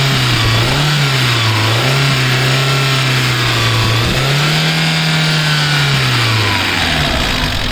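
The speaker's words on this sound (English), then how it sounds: "You can just check out the sound of the engine." A 2009 Maruti Gypsy 4x4 engine runs loud and close, idling steadily then revving up in a couple of smooth swells before settling back, alone without talk.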